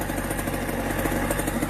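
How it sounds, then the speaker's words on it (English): Engine of a 2006 Kawasaki KX100 dirt bike idling after restoration, a steady, close, buzzing two-stroke putter with a fast, even pulse and no voices. "Just breaking her in right now, letting her idle for a bit"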